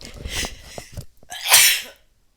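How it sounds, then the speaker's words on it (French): A single sneeze, close and loud, preceded by a sharp breath intake and small sounds, then silence. "excusez-moi, je vais éternuer"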